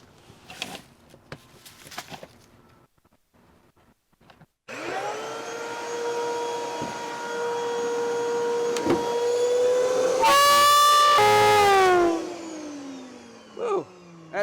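A vacuum forming machine heated to 290 degrees Fahrenheit switched on for shaping EVA foam, its loud steady motor whine starting abruptly after quiet clicks and holding, then rising in pitch before the sound winds down.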